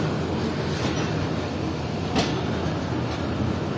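Awam Express train pulling out of Padidan railway station, heard as a steady, loud rumble of rolling carriages with faint clatter, no voices.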